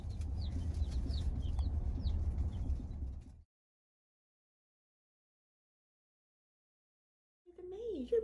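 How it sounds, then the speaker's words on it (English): Chickens cluck and chirp close by for a few seconds with a low rumbling background, then the sound cuts to silence before a brief chirp returns at the end. "Look who came to visit the chickies."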